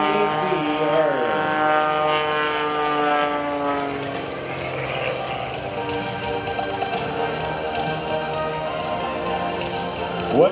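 Sean Tucker's aerobatic airplane flies the Harrier Pass at an airshow, engine and propeller whine sliding in pitch as it passes, then a broad roar continuing with a voice talking over it.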